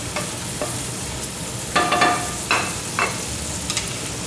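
Carrots fry in a pan with albóndigas for a grandmother-style meatball dish, giving a steady loud sizzle broken by sharper scrapes and clatters as they are stirred.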